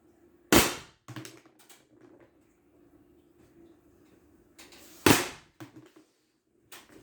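An Umarex HDS68 airsoft pistol fires two loud, sharp cracks a few seconds apart inside an apartment, each followed by brief clattering ticks, over a faint steady hum and near silence.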